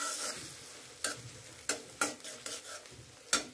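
Spices being sautéed with coconut milk for a prawn curry, with repeated scraping stirs of a spoon against the pan over a soft continuous sizzle and no talk.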